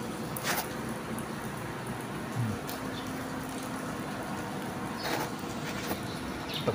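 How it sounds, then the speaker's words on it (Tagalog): Heavy rain pours steadily outside as a constant broadband hiss, with no speech heard and a few brief clatters and taps rising above the wash. "Ang lakas ng ulan, guys."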